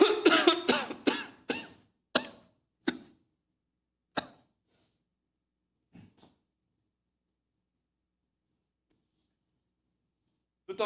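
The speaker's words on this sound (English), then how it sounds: "The doctor said the cough would go away in a few weeks." A series of coughs, a dense cluster of sharp bursts at the start, then sparser single coughs fading out into silence, with one more at the very end.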